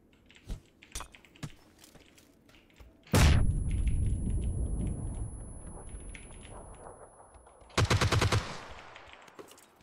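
Gunfire in PUBG on Xbox One: one loud close shot with a long decaying tail, then a rapid automatic burst near the end, with scattered keyboard-like clicks early on.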